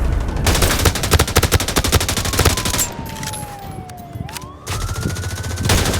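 Rapid machine gun fire in the video game Tom Clancy's The Division: loud, continuous automatic bursts that ease off briefly in the middle, where a sweeping siren-like tone rises and falls, then resume.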